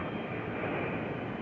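An F-14 Tomcat jet taxis across a runway, its engine a steady, dense broadband roar that stays constant and fairly close through a brief moment.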